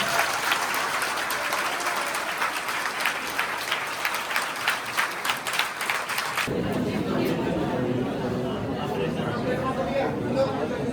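Audience applause greets a revenue officer and other guests at a welcome event in a coaching institute, steady clapping with crowd chatter throughout, shifting to a denser, closer roar of claps partway through.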